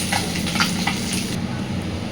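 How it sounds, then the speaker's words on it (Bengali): Close, loud sizzling of dantne river fish frying in oil, with a few scraping stirs early on over a continuous hiss. "এইভাবে বাকি মাছগুলো আমি ভেজে নেব"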